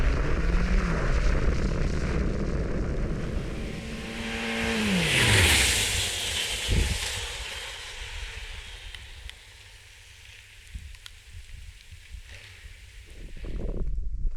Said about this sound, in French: Troisième freinage, donc c'est parti.